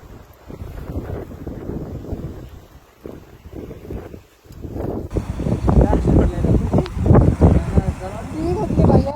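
Strong wind in a snowstorm in London, Ontario, roaring and buffeting against the microphone in uneven gusts that grow louder partway through, with a person talking over it.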